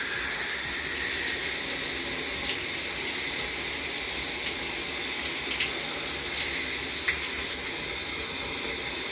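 A shower running steadily, a constant hiss of spraying water with faint splashes and no voices, continuous and close throughout.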